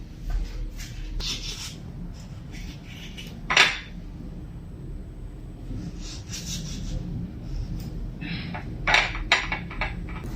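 Forks and spoons clink against plates in a quiet room with soft ambient hum. The light metallic clatter comes in short, irregular bursts, with two sharper, louder clacks standing out.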